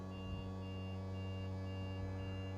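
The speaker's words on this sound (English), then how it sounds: "Now the caravan is warning us that the legs are going down," An E&P automatic self-levelling system on a caravan sounds a steady warning tone as its legs lower, with a continuous hum and faint high beeping tones running through the whole short stretch.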